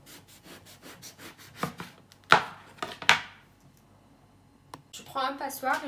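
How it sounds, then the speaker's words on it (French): A knife slices eggplant into rounds on a board, a quick run of soft rhythmic cuts followed by two louder, sharper chops, then scraping and handling noise near the end, close and clear. "Je lave l'aubergine, je suis en train de le couper en rondelles."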